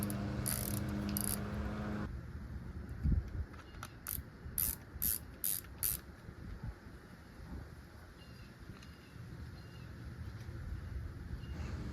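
A center bolt is worked loose from a Honda lawn mower's recoil starter. Quiet rapid ratchet clicks come in short bursts over steady background wind noise, with a few louder clatters.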